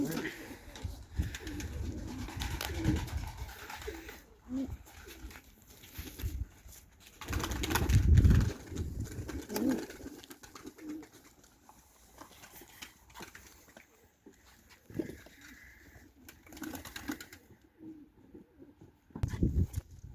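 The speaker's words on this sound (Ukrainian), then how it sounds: "насипав зараз голубам їсти, трошки випустив сюди голубів" Domestic pigeons coo in bursts after being fed and let out of their loft, the soft low calls rising and fading at close range with rustling and fluttering between them.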